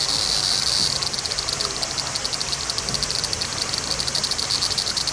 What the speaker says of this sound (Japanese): セミ鳴いてるし、